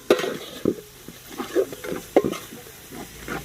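Curry leaves are stirred into frying chicken kondattam masala, with irregular spoon scrapes and clanks against the pan over a light sizzle.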